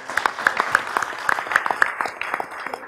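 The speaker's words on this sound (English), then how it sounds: "Big round of applause." An audience at a solar energy leadership summit in New Delhi applauds after a panel session, a crisp burst of individual claps close and fairly loud, thinning out toward the end with faint voices beneath.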